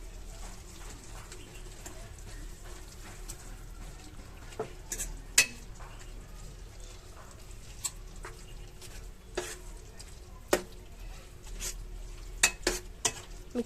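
Goat tripe and tomato curry with chilli powder gets stirred in a pot, a soft low bubbling under intermittent sharp spoon clinks and scrapes against the vessel.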